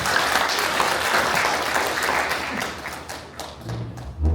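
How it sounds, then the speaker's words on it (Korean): An audience at the founding general meeting of a Buddhist cultural society claps in sustained, dense applause, loud and close, with a few thumps near the end as it tapers off. "예, 박수 부탁드리겠습니다."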